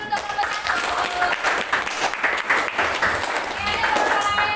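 A classroom of high school students claps together in steady, sustained applause for a presenting group, loud and close, with scattered voices mixed in.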